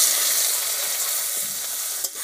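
Chopped onions frying in a pan over low heat with bay leaves and nigella seeds, a steady close hiss and crackle of sizzling oil with a brief stir near the end.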